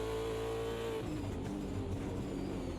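V8 Supercar engine in Automobilista 2 at Bathurst, heard from a chase camera: a loud, steady race engine drone that shifts pitch partway through, with rising revs and no talking.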